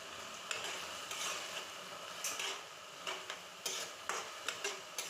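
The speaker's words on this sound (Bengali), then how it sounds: "তো মশলাগুলোকে আমি সবজির সাথে ভালো করে মিশিয়ে নিচ্ছি" Ground cumin, chili and turmeric are worked into vegetables with radish in a pan, giving quiet, repeated scraping strokes in an uneven rhythm over a faint background sizzle, nearby and fairly soft, with no talking.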